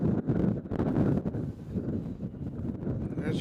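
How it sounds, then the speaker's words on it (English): Steady wind buffeting the microphone at Nashville International Airport, a low rumbling roar that gusts and eases throughout, loud and close. "As you can hear the wind, it's a little windy out here."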